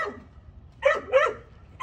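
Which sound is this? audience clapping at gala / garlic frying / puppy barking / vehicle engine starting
puppy barking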